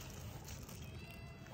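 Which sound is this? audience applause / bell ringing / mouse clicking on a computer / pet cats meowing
pet cats meowing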